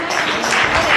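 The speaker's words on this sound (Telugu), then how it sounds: "అందరు క్లాప్స్ కొట్టండి." Brief burst of audience clapping at a children's church program, a dense, steady wash of applause lasting about a second.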